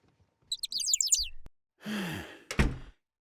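A cartoon bird gives a quick burst of high, rapid chirps, followed by a breathy sigh-like vocal sound and a short sharp effect, set against near silence.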